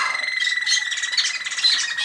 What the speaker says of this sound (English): He's singing flutes and rolls like a roller canary.